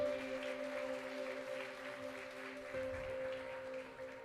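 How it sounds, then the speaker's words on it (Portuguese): Church congregation clapping during a worship service, a soft, distant wash of applause under a steady organ or keyboard drone, fairly quiet throughout. "Você pode aplaudir ao Senhor mais uma vez aí,"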